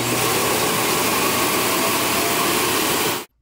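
An Ultenic T10 robot vacuum runs with a steady, loud broadband whir that holds evenly and then cuts off abruptly.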